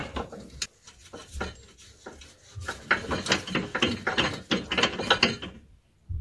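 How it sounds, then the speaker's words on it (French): A hand ratchet loosens the oil pan bolts on a BMW N54 engine, with rapid close clicking in irregular bursts that grows denser and louder toward the end before stopping. "L'idée c'est de tout desserrer à la main, tranquillement."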